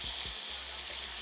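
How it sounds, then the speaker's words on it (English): Steady broadband sizzle of hamburger meat frying in a hot pan on an induction cooktop, a continuous hiss with a few low thumps, no talking. "There you go, nice sizzle."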